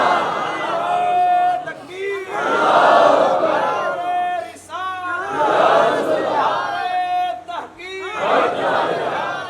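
A large crowd at a religious gathering answers a takbir call with loud, rhythmic chanted responses in repeated waves, the massed voices swelling and falling close by.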